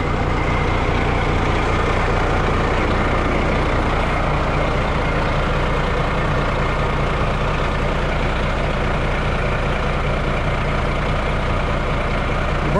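Big rig truck with broken brake handles pulling forward, a loud, steady diesel engine rumble with constant low drone, close up and alone, no voices.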